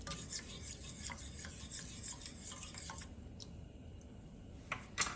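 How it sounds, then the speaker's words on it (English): A utensil scrapes and swirls through milk and butter warming in a pot, making a soft, continuous rubbing and clinking stir that grows quieter, with a couple of sharper taps at the end. "I'm gonna give this a stir"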